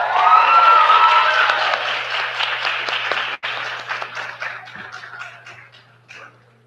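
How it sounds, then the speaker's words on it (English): Applause at an M.Ed. graduation hooding ceremony: a dense crowd clapping loudly at first, then thinning into scattered claps and fading out over about seven seconds. "One more round of applause for her."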